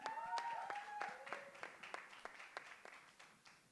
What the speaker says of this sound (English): Ladies and gentlemen, can we have a round of applause once again for our dear friends?